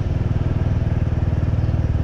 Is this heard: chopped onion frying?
no